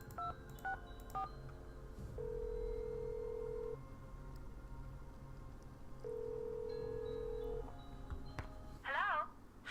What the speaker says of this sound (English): let's try Lupe, and I think that'll be it for phone calls